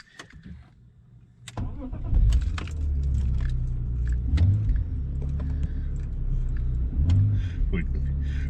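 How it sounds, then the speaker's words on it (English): A BMW E46 330ci Clubsport cranks and starts after a jingle of keys, then settles into a steady, deep, smooth idle close by with slight revs rising and falling. "Engine's really nice and smooth and running good."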